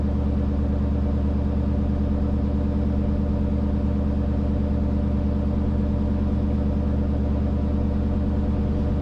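The Terminator Mustang's engine, running on Holley EFI, idles on a dyno with a loud, close, perfectly steady rumble that holds an even pulse without surging or dropping.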